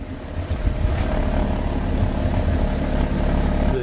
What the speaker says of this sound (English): exhaust note is pretty good now